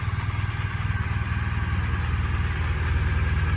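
A 2018 BMW GS 1200 motorcycle with about 30,000 km idles close by, a steady, even low engine pulse with light mechanical clatter, running alone without talk.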